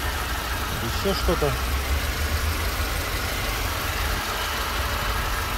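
Idling engine of a 2012 Mercedes E200 with about 156,000 km, a steady low hum running throughout under a brief spoken remark.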